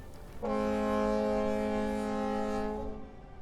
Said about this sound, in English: The Staten Island ferry docks.